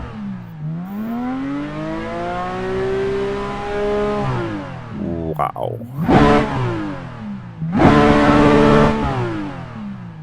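A car engine revved in neutral: one long rev climbs and falls back, then two short, sharp blips of throttle follow, loud and close, with a brief spoken exclamation between them.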